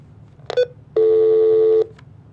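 Telephone tones on a live broadcast line after a caller is cut off: a short burst of dial tones, then one sustained steady tone lasting nearly a second, heard alone and clearly.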